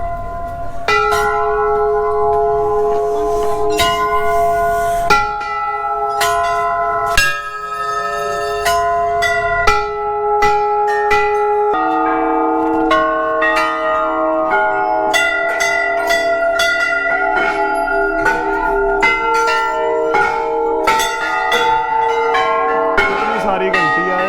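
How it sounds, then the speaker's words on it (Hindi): Metal bells at the Golu Chaitai hill temple in Almora ring repeatedly and irregularly, many overlapping strikes with long bright resonances, close and loud throughout with a busy crowd in the background. "सारी घंटियां हैं यहाँ पे।"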